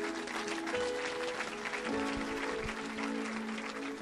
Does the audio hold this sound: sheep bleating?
no